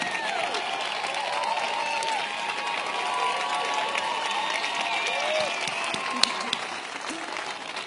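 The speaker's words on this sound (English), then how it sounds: "I was going to say let's give them a round of applause" Steady applause from a large crowd, continuous clapping with a few faint cheers, sustained throughout.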